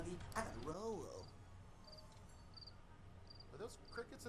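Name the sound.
crickets chirping in a movie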